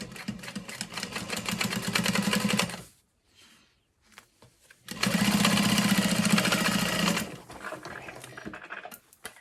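A sewing machine runs a basting stitch through fabric for a sling in two loud, close bursts of fast rhythmic whirring, separated by a short near-silent pause, with a quieter tail of running at the end.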